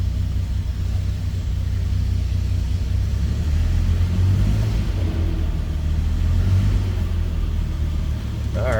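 A 1949 Ford F1 pickup with an inline-six engine idles after a push-button start, a steady low rumble with slight uneven pulsing, close and continuous.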